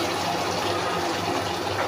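Soy sauce poured into a pan of spice mix that has been fried down, a steady close liquid splash and gush with no pauses over the full stretch, free of talk.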